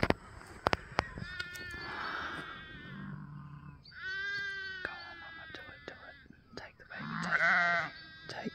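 Sheep and lambs during lambing season bleating in several calls, some high and wavering, near and fairly loud, with a person talking between them.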